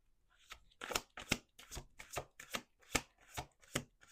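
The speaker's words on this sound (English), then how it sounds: "Two more shuffles." A deck of playing cards shuffled in about nine quick riffling bursts with short pauses between them, close and crisp, with no talking.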